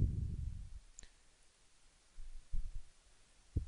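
A single mouse click on an on-screen OK button in QlikView software, a short faint tick standing alone in a quiet room, with a few soft low thumps nearby.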